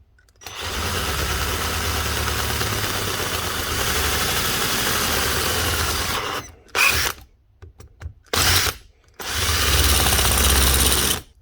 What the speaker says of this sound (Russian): Затем рассверливаем просто одну верхнюю.